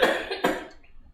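A single close cough followed by a short second burst, then a quick fade, loud and alone in a home kitchen.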